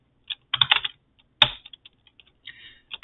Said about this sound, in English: start typing in.